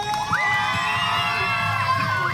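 Crowd of children cheering and shouting loudly for the red team at a Children's Day tug-of-war event, a steady roar of voices with whoops, close and continuous.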